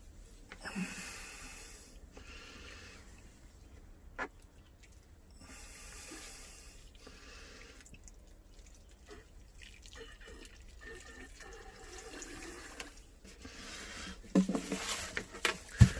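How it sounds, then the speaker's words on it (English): Water poured onto freshly planted begonia tubers in compost, a soft continuous trickle and patter with a few splashy drips, louder bursts near the end, no talking. "you're going to give them a water."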